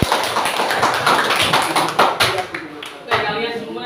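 A classroom of students claps for a presentation group returning to their seats, an uneven burst of hand claps and taps with a few louder strikes that thins out toward the end.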